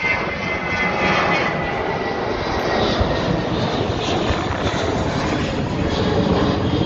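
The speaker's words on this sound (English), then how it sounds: "there's a plane leaving Heathrow, heading off to another country" Airplane taking off from Heathrow in London, a steady, loud engine roar that fills the whole stretch without letup, with no voices over it.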